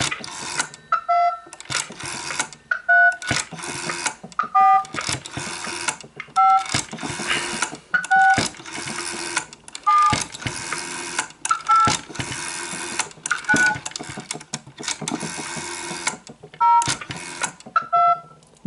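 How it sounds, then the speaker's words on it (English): A PBX generates DTMF tones as digits are dialed on an Ericsson PMG 271 rotary telephone, with repeated clicking pulse bursts interleaved with short two-tone beeps heard through a phone line. "It actually does the pulse to DTMF dialing."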